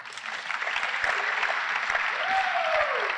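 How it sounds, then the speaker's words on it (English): An audience applauds steadily at a university awards show, a full crowd of clapping hands with scattered louder claps and a brief whistle-like tone rising through it. "Give yourselves a round of applause."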